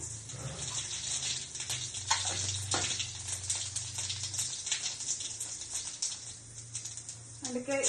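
Mustard seeds and cumin crackle in hot oil for jeera rice, giving a steady, dense sizzle with scattered pops and spatters that runs the whole time, fairly close.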